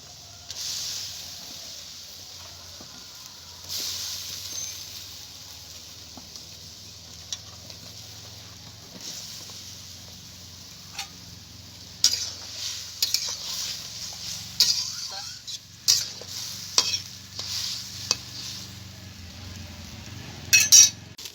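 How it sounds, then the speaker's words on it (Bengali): Eggplant pieces cooking in a pan for a vegetarian dish, with a soft steady hiss under scattered clinks and scrapes of a spatula stirring, growing busier and louder toward the end. "বেগুনটাকে এখন ভাজিয়ে নিই"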